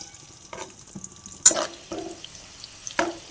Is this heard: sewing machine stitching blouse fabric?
no